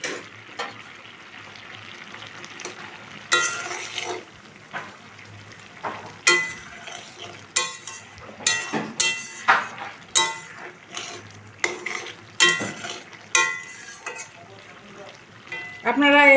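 Chopped tomato frying with fish curry in a pan gives a steady sizzle, broken by repeated sharp clinks and scrapes of a spatula against the pan.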